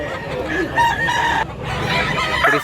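Chickens and roosters at a market in Mantalungon, Cebu crow and cluck close by, with several overlapping calls against busy background crowd noise.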